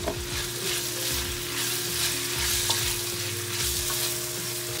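Chicken pieces going into a pan of onions already frying for a couple of minutes, for Ecuadorian arroz con pollo; a steady, close sizzle with stirring scrapes, fairly loud and continuous, no talking.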